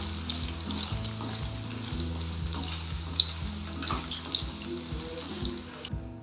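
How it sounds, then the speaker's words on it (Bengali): Paneer cubes fry in oil in a home kitchen pan, making a soft continuous hiss with scattered pops and crackles under a low hum, fairly quiet and with no talking. "পনিরটা আমাদের ভাজা হয়ে গেছে এবার আমি তুলে নেব"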